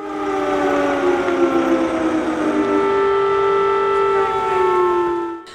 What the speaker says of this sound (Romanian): La ora 10, sirenele de pe raza municipiului au fost puse în funcțiune.